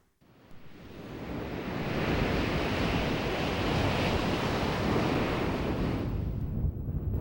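Ocean wind and surf sweep across the Guadalupe dunes on the California coast, a broad rushing roar that swells up from quiet, holds steady, then eases slightly at the end, with no voices.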